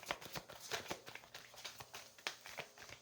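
Tarot cards are shuffled close up in quick, quiet bursts of riffling and flicking, a soft papery patter repeating in an uneven rhythm with no talking.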